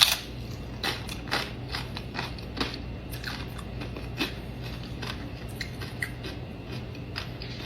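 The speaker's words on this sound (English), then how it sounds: "Now, hear this crunch." Crunchy lasagna dip is bitten and chewed close to the microphone, repeated crisp crackling crunches in an irregular rhythm over a low background hum.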